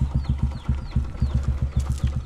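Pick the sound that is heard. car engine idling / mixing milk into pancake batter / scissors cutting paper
car engine idling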